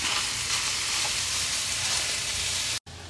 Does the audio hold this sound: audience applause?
no